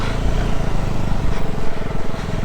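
A motorcycle engine runs steadily and close on a steep mountain trail on the way from Manang toward Ice Lake, with a dense, continuous low rumble throughout.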